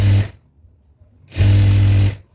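Sewing machine stitching a seam on a chudidar pant, heard as two loud mechanical whirring bursts, a short one then a longer one of about a second, separated by near silence.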